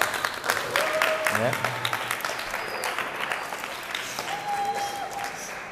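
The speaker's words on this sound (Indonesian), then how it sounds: "Tepuk tangan buat kita semua." A crowd claps continuously in a dense, sustained patter, steady and fairly loud, while a voice speaks briefly over it.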